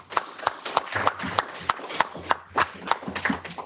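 An audience applauds at a conference panel on EU competitiveness: steady, moderately loud clapping with uneven rhythmic peaks that fills the whole stretch.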